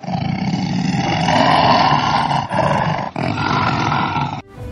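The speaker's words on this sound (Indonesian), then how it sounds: "mendengar suara harimau yang mengaum dengan keras" A tiger roars loudly and continuously for several seconds, a deep rumbling growl with two brief dips before it cuts off near the end.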